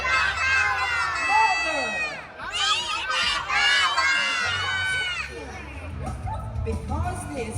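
A crowd of children at a live PAW Patrol Mighty Pups stage show yells together in loud bursts, with shrill overlapping voices, amid an excited audience and an amplified voice from the stage.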